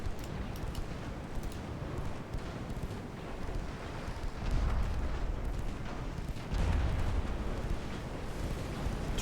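Naval turret guns fire in a dreadnought-era sea battle with one turret still working, heard as a dense, continuous rumble of booms with heavier low thuds near the middle and late in the stretch.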